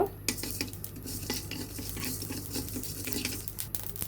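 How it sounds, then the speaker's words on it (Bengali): Cumin seeds dry roasting in a pan, stirred with a spoon that scrapes and taps against the metal in irregular close strokes over a low background hum. "1 চামচ আমরা জিরা টেলে নেব"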